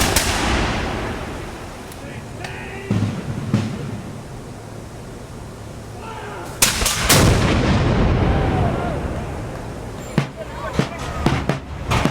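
A cannon blast and a volley of musket fire at an outdoor historical reenactment in Mecklenburg County. Loud booming reports are followed by a long rolling echo, then scattered sharper shots toward the end, with crowd voices faintly underneath.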